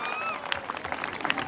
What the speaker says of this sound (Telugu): గట్టిగా చప్పట్లు కొడుతూ ఈస్టర్ కంటెంట్ టీం ని మనం ఆహ్వానించుకుందాం